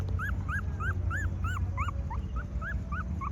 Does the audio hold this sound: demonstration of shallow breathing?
no